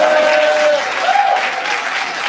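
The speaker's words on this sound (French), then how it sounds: "Mesdames et messieurs, un nouvel applaudissement pour le..." Another round of audience applause at a French motivational summit on stage, thick sustained clapping from a crowd with a brief voice tone rising over it before fading slightly toward the end.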